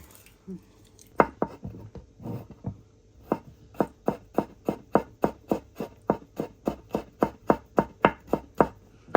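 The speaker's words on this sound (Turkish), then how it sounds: "Ama ben sarımsağı ezme yönündeyim. Bıçakla ezdim de. Yine de doğradım evveli." Steady knife chopping of garlic on a cutting board, about two dozen crisp even taps at a quick rhythm, close up, with no talking.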